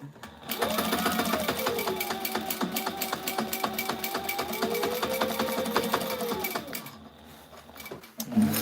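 A sewing machine stitches tactical gear in one sustained run, its rapid needle clatter steady for about six seconds before stopping, followed by a brief handling noise.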